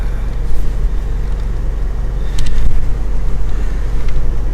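Car engine running at a steady idle with a low, even rumble, then given a little gas for a short rise in revs before settling back down; no talking.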